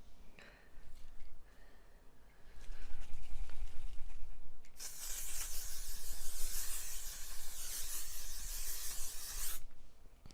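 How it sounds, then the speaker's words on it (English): A quiet rustle, then a long continuous spray of L'Oreal Infallible setting spray hisses loudly for about five seconds before cutting off abruptly. "this is the L'Oreal Infallible 3-second setting spray"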